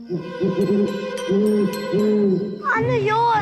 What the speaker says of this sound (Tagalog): kuwago yun